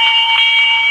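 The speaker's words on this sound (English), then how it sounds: "Never mind the doorbell." A doorbell ringing as a radio-drama sound effect, a steady electric bell tone held loud and unbroken for just under a second, with no voices.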